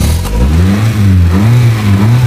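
A 1995 Toyota Indus saloon with a 16-valve engine, running short on petrol, cranks and catches, then its mid-pitched engine rises and falls in a couple of close, loud revs.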